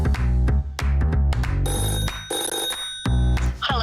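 A telephone bell rings loudly in repeated bursts as a live call-in line opens, a bright ringing tone that stops and restarts several times with short gaps.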